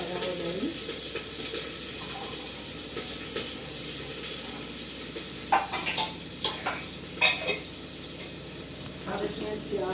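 Green chilies sizzle and hiss in a hot pan while being stirred, with scraping stir strokes and a steady frying crackle, close by and fairly loud.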